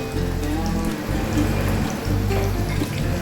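Capsicum corn malpua batter, a second batch, frying in hot oil gives a steady, dense crackle and patter like rain, close by and continuous with no voices.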